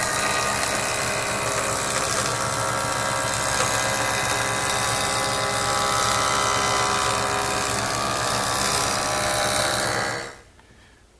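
A power saw cuts through a wooden board for a drop leaf table, a loud steady whining drone held for about ten seconds, then the blade spins down and the sound drops away near the end.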